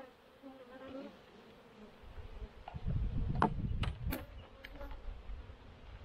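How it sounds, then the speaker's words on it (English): Honey bees drone and buzz around an open hive's honey super, a continuous close hum that swells midway, with occasional sharp clicks and knocks of hive equipment. "These bees are doing nothing in the honey super."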